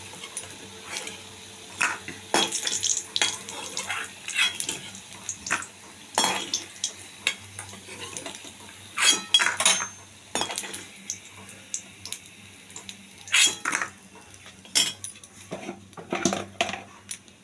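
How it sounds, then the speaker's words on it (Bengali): Metal spoon scraping and clinking against a pan as fried jackfruit koftas are lifted out of hot oil, a series of sharp, irregular knocks and scrapes over a faint low sizzle, with no talking. "এবার আঁচটা কমিয়ে আমি কোপ্তাগুলোকে তুলে নেব।"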